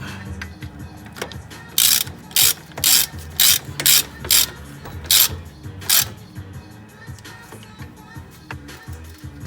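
A ratchet wrench turns a bolt, coated with Loctite, back into an Akebono brake caliper on a 2004 Nissan Maxima, giving a run of about nine loud, regular ratcheting bursts up close against quiet background.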